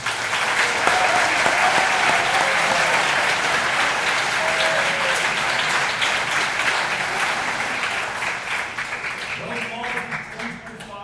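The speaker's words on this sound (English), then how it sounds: "give them a round of applause for their great work" Sustained applause from an audience for the Kindred High School Band at a hall of fame ceremony, loud and steady for about ten seconds before thinning out, with faint talk near the end.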